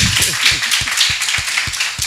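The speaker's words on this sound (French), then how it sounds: "Ça s'applaudit, s'il vous plaît." Small audience at a storytelling-themed magazine event clapping in steady, fairly close hand claps, a few dozen sharp strikes over about two seconds with no voices.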